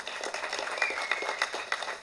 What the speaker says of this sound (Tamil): அதுக்கே தனியாக நீங்கள் அவருக்கு ஒரு கைத்தட்டல் கொடுக்கலாம்